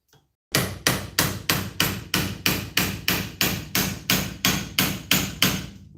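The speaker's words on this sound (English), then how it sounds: "let's try out this homemade hammer" A homemade hammer pounds a rivet on a 1996-2005 Chevy Astro part, about fourteen loud, evenly spaced metallic blows in a steady rhythm, close and alone.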